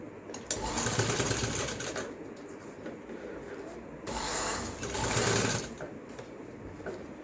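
Sewing machine stitching fine lace onto a garment neckline, running in steady bursts of rapid mechanical whirring with short pauses between runs, close and fairly loud.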